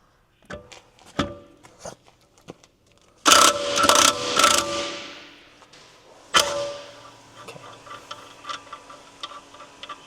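A ratchet working a 21mm bolt on the lower control arm of a Tesla Model X, scattered metallic clicks and clunks with a dense burst of rapid ratcheting in the middle, close and fairly loud.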